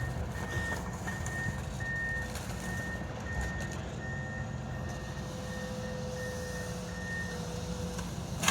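Reversing beeps from a truck at a house demolition in Mount Hope, West Virginia, repeating steadily in evenly spaced pulses over a constant rumble of machinery and outdoor noise.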